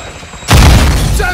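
A Semtex grenade blows up in Call of Duty: Modern Warfare II, one sudden loud boom after a short quiet lead-in, with a rumbling tail that fades slowly.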